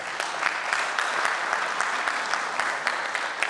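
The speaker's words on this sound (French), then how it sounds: "Je voudrais que vous l'acclamiez pour cela." Sustained crowd applause for Tidiane Thiam, newly declared president of the PDCI-RDA, dense steady clapping filling the whole stretch at moderate loudness with scattered sharper claps.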